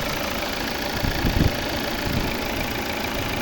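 A 2014 Volvo V70 2.0 D4 diesel engine idles with a steady low rumble and clatter, close by, with a slight surge partway through.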